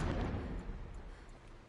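Distant explosions in the video game Horizon Zero Dawn, a low, rolling rumble of far-off blasts that fades slightly over under two seconds, with no talk.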